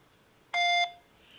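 A single steady electronic beep from an automated phone verification system, lasting about a third of a second, sounds alone against a quiet line.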